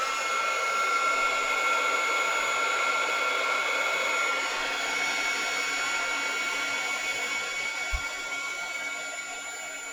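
A heat embossing tool blasts hot air onto a handmade Easter card until the embossing turns glossy, giving a loud, steady blowing whir that runs unbroken from start to finish with no talk over it.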